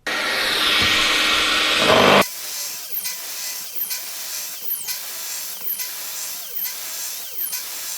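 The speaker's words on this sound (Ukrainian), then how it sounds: "Зараз вмикаю пилосос, роблю 10 різів і дивлюсь на показники приладу." A Metabo mitre saw roars loudly through a cut for about two seconds with a vacuum running, then the quieter vacuum drones on under a series of short, regularly repeating chirps and clicks.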